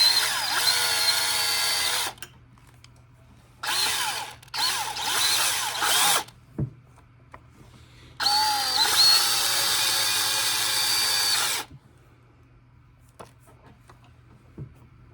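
A power drill drives a wood screw into old head gasket material on a Kohler Command engine of a Cub Cadet tractor, three loud whirring bursts of a few seconds each separated by quiet gaps and small clicks, no talking.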